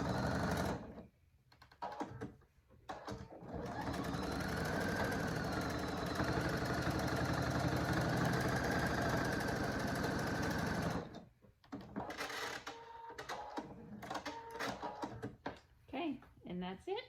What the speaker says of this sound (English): now we're going to sew the edge of this 1/8 of an inch from the edge